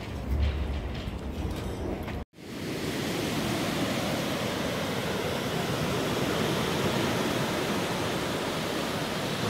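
Ocean surf on a Gran Canaria beach makes a continuous broadband roar of breaking waves, loud and steady, broken only by a brief cut near the start, with no voices.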